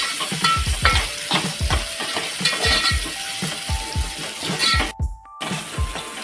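Chopped onion frying in a pan for a rustic village-style ambadi rassa, with steady loud sizzling and repeated stirring scrapes throughout, close up and without talk.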